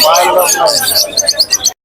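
Lovebirds chirping at a bird seller's shop, bright rapid tweets layered over a busy babble of people talking, ending in a quick run of sharp chirps before an abrupt stop.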